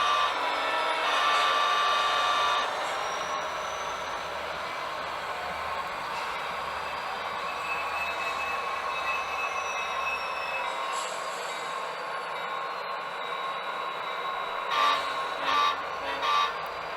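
Several Union Pacific HO scale model locomotives, gen sets among them, run together on a home layout with a steady whirring motor drone and faint metallic wheel squeals, a few louder clicks near the end.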